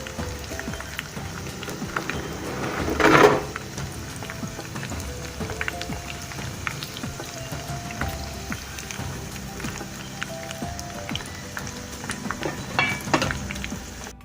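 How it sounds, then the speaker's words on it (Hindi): Chicken nugget samosas deep-frying slowly in hot oil, a steady close hiss and crackle of bubbling with scattered pops, a brief louder splash of activity early on. "समोसे हमारे फ्राई हो रहे हैं आहिस्ता आहिस्ता"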